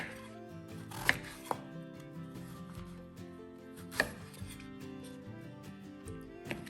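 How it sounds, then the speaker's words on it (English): A knife chops through a zucchini on a cutting board in sharp, distinct strokes, with a few louder cuts spaced a few seconds apart and quieter taps in between, close and clear with no talking. "I'm gonna cut in different slices and then harvest the seeds"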